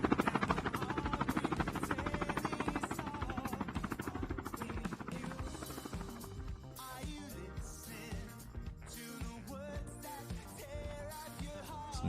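A helicopter in the shooter Call of Duty: Mobile thumps with a fast, steady rotor chop that fades partway through, joined by scattered bursts of gunfire.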